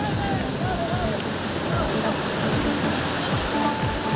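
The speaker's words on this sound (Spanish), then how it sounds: "el río Quellumani en el municipio de Palca fue otro que se desbordó" The Quellumani river in Palca, in flood and spilling its banks into homes, sends up a continuous loud rush of churning water that runs beneath a speaking voice from start to finish.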